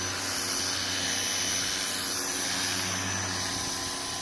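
A pressure washer blasts grime off car engine parts, a steady hissing rush heard from a short distance, moderately loud and unbroken, with no talk.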